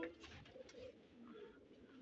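Pigeons cooing on a rooftop loft in Quetta, a faint, soft murmur of low coos over a couple of seconds with no voices.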